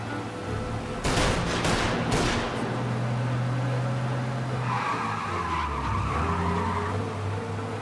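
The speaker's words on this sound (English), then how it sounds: "We lose them by driving real fast and getting clear of them." A fast car chase in the video game Mafia: Definitive Edition, with a roaring engine, loud tire skids and bursts of gunfire early on, then sustained engine drone and squealing tires, close and loud with no speech.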